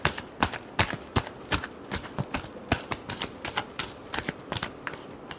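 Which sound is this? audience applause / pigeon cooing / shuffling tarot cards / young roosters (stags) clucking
shuffling tarot cards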